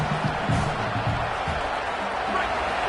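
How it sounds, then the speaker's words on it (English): Stadium crowd at a college football game between Oklahoma and BYU roars steadily to back the home defense, a dense, sustained wall of noise with no breaks throughout. "Listen to this crowd just shaking the girders of this place trying to help their defense"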